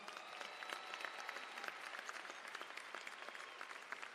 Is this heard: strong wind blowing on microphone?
no